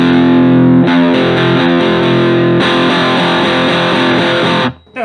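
Electric guitar through a BOSS BD-2 Blues Driver overdrive pedal plays crunchy chords, a held chord then a brighter strummed passage, loud and gritty before cutting off.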